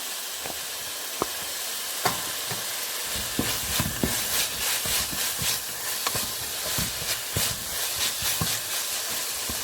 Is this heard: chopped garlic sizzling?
yes